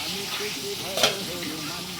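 Potatoes fry in hot oil with a constant sizzle while a utensil stirs them, scraping briefly and loudly about midway through.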